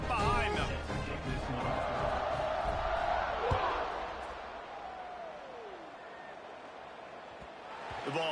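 A football stadium crowd roars and cheers before kickoff, a broad swelling din that fades gradually, heard alongside a commentator's voice.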